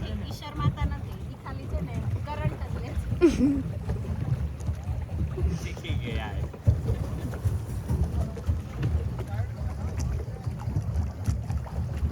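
A small pleasure boat moves across water on an outing in Nasik, with a low continuous churning and wind buffeting under frequent chatter and laughter from people aboard.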